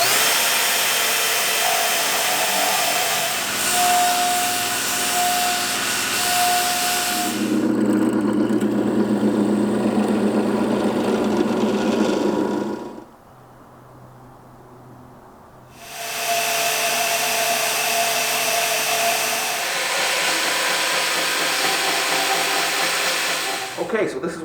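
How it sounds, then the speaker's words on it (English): A loud, whining power tool cuts 3/16 inch stainless steel round stock into pins, with a steady grinding howl that shifts in pitch, drops out briefly near the middle, then resumes just as loud, close up and without talk. "I'm going to cut 2 stainless pins out of this 3/16 inch stainless steel round stock"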